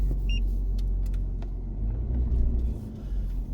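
A vehicle rolls along a flooded jungle road in Florida, a low steady engine rumble heard from inside the cabin with a few small clicks and taps, no talk.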